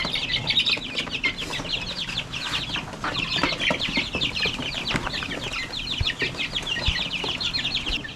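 Australorp chickens cluck busily at feeding time, making many overlapping short clucks and chirps nearby, with scattered thumps and scratching underneath.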